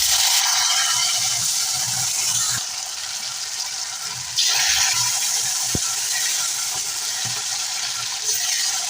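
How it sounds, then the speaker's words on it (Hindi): Beef dropped into oil boiling over full flame in a kadai sizzles loudly with a bright, rushing hiss that dips and swells, punctuated by a few sharp clinks from the pan. "खोलते हुए ऑयल में अब हम अपना बीफ डाल देंगे।"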